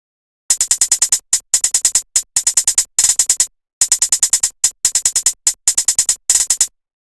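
A sharp electronic trap hi-hat plays a simple repeating intro pattern of quick bursts separated by short pauses, loud and isolated, with silence at the start and end.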